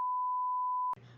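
A censor bleep: one steady, loud electronic tone held for just under a second, then cut off into quiet room noise.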